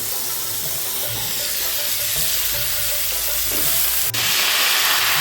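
Taro stolons hitting hot mustard oil already frying chepa shutki dried fish, giving a loud, steady sizzle and crackle with brief stirring scrapes near the pan, and a sharp click near the end.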